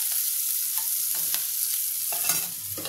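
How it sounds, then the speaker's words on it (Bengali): Chopped onions fry in a pan while being browned for a paneer masala, a steady sizzle with intermittent scraping stirs that stand out over the hiss. "পেঁয়াজ কুচিটা আমি একটু লাল করে ভেজে নেব।"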